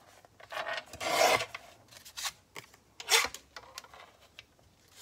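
Blade cutting the spine edge of a handmade paper album during bookbinding, a few short rasping strokes with quiet gaps, close and fairly soft, two strokes standing out louder.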